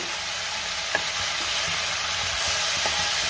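Okra (bhendi) stir-frying in a pan over a high flame gives a continuous hissing sizzle with occasional soft scrapes of the spatula, close and steady.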